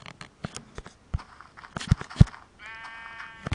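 Sheep bleating in the video game Minecraft, several short synthetic bleats in quick succession, fairly close and clear, with light game clicks and a brief tonal chime near the end.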